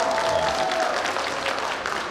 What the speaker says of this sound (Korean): 여러분 박수 한번 주시기 바라겠습니다